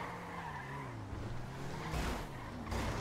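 Car skidding in the video game GTA V, a continuous engine and tire-skid roar with rising, sliding tones and two louder bursts of screech toward the end.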